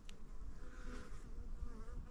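Flies buzz around food set out outdoors, a persistent close droning hum that wavers in loudness throughout, with no speech.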